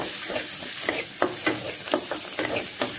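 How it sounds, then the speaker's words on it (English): Chopped ginger and garlic sizzle in a hot pan for a Malaysian-style vegetable kurma, with a steady frying hiss broken by close spoon scrapes and taps from stirring. "To this I'm also adding chopped ginger, chopped garlic, I'm just stirring it a little."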